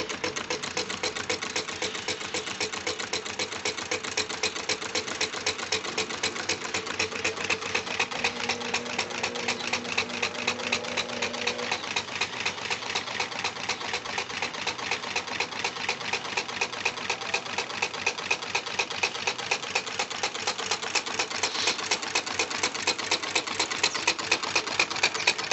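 A homemade Stirling engine runs with a fast, even mechanical ticking that holds steady and gradually quickens and grows a little louder as it speeds up, heard close and alone for the full length.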